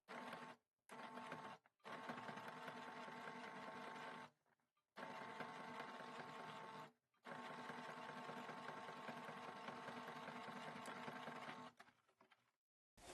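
A sewing machine topstitches a patch pocket, a steady rapid whirring hum of stitching in several runs separated by brief pauses, close and alone with no voices.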